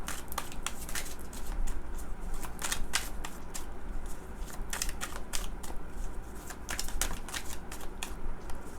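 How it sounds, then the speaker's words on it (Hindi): Tarot cards are shuffled by hand, a rapid run of crisp riffling flicks and slaps, close and fairly quiet, repeating in bursts. "let me shuffle the cards"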